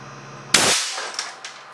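A compressed-air cannon fires a 420 grain hard alloy cast lead slug at 325 psi into a bathroom sink, giving one sharp, loud blast that decays quickly, with a couple of fainter clattering echoes after it.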